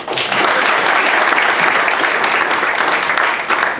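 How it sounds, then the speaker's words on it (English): A roomful of guests at a spring interfaith dinner clap together, loud and continuous from start to finish, tapering slightly at the very end. "Can we give one more round of applause, please?"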